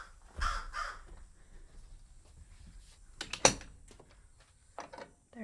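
Crows at Alveus Sanctuary caw in a few separate bursts, fairly faint and distant, with quiet gaps and light clattering between the calls.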